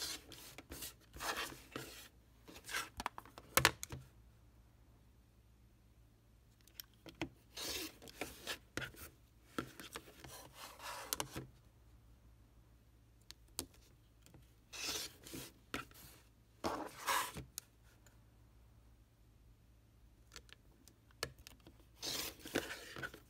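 Fabric strips 1.5 inches wide are cut for a log cabin courthouse steps quilt, heard as repeated short scraping, rasping strokes up close with quiet pauses between them and no talking.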